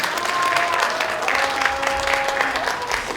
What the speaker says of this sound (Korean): 여러분의 큰 박수와 함성으로 힘차게 한번 시작해